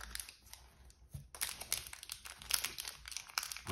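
Crinkly foil of a Yu-Gi-Oh card pack being struggled with and torn open up close, irregular rustling and crackling with sharper rips in between, no talking.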